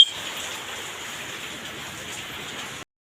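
Heavy rain falling on a village home, a dense, steady hiss of downpour that fills the whole stretch evenly and ends abruptly, with no voices.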